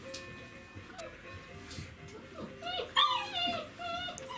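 Czechoslovakian wolfdog puppies whimper and yip in thin, high, wavering cries, several overlapping near the end, amid faint ticking and a quiet voice talking.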